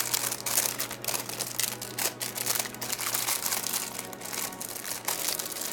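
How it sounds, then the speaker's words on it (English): Thin plastic wrap crinkling and rustling steadily as it is peeled off a Bluetooth foldable keyboard, close and continuous with dense crackles throughout and no talking. "Let's go ahead and unwrap it."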